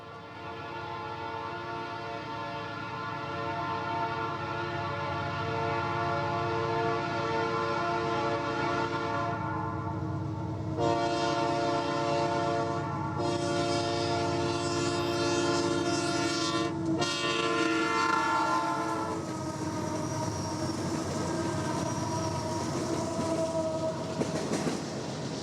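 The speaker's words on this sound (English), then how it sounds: "trains roll through Tolan at speed" A Union Pacific freight train on the Moffat Line rolls through Tolan at speed, its loud steady rumble and rail clatter carrying throughout while the horn sounds in long blasts over the passing cars.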